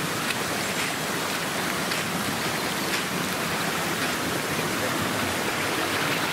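Heavy rain pours steadily over a wet campsite, a dense, continuous hiss of drops hitting surfaces that holds unchanged from start to finish with no voices.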